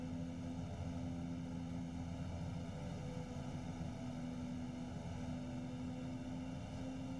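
A simulated bush plane engine in X-Plane 11 runs at high throttle before takeoff at Fort Yukon, Alaska, giving a steady, even propeller drone with a constant low hum.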